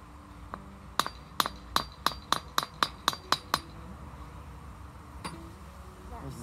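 Trowel tapping mortar into a stair joint during repointing, a run of about ten sharp, bright metallic clinks in quick steady rhythm, close by, followed by one more isolated tap and faint background noise.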